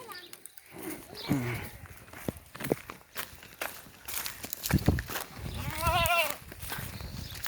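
A goat bleats a few times amid shuffling footsteps and nearby voices, the calls fairly close and moderately loud.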